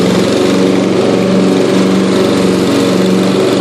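A Yard King lawn tractor runs steadily while mowing, its small engine a loud, constant close drone with a buzzing harmonic hum and no break throughout.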